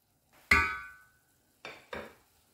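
A spoon or ladle scrapes and knocks against the pan as pumpkin halwa is dished out: one sharp clang, then two softer knocks a moment later, close by in an otherwise quiet kitchen.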